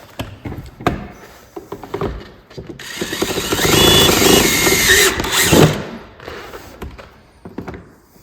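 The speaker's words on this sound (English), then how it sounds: "Drill into the fender flare." A power drill whirs loudly into a plastic fender flare on a Segway Villain SX10 for a few seconds, framed by scattered clunks and handling noises before and after.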